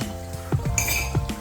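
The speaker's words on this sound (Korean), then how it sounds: "그래서 보시다시피 설거지가 서툴다." Dishes being washed by hand in a home kitchen, with several light clinks and knocks of plates and cutlery close by, spaced irregularly over a soft background.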